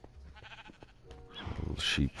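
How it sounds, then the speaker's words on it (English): Sheep bleat in the Minecraft video game, a short nasal bleat building to a louder, closer call near the end, with soft background game sounds. "Little sheep farm"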